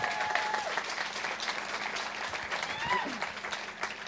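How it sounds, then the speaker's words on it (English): A conference audience breaks into a round of applause, thick continuous clapping at close range with a few whistles rising above it throughout. "Yes, I think that deserves a round of applause."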